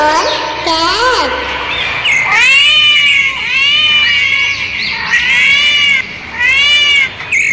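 Cat meowing in a children's phonics song, with loud, repeated high-pitched meows and caterwaul-like cries laid over music.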